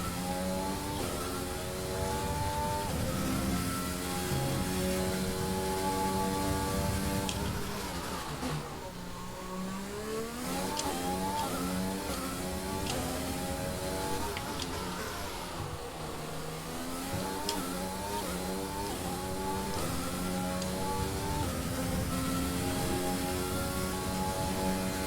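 A Formula 1 car engine screams at high speed in F1 2020 at the Azerbaijan circuit, loud and continuous, pitch climbing through gear changes with a brief dip and rise in revs midway.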